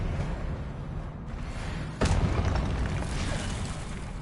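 Expelliarmus spell cast in Hogwarts Legacy, a sharp booming burst midway through that lands with a thudding impact over a rumbling ambient bed.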